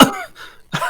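Two sharp, close coughs, one at the start and another a moment later, with a brief pause between them.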